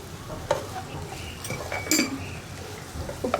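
A spoon stirs an ivy gourd and okra stir-fry in a pan, scraping and clinking against the metal in a few sharp knocks over a soft sizzle.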